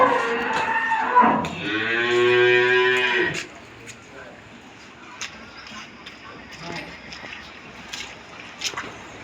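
A young Holstein Friesian heifer on a dairy farm lets out one loud, drawn-out moo lasting about two seconds, then quiet farmyard ambience with faint scattered knocks follows.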